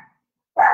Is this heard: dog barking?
yes